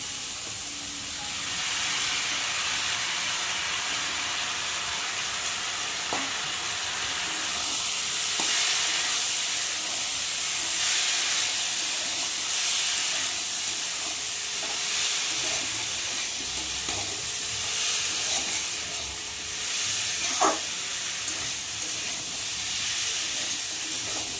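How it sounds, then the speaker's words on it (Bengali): Soaked, drained moong dal fries with vegetables in a pan for sago khichdi. A loud, steady sizzling hiss runs throughout, broken by a few sharp spatula clinks and scrapes against the pan. "আর এখন সাথে ভালো করে ভেজে নেবো সবজির সাথে"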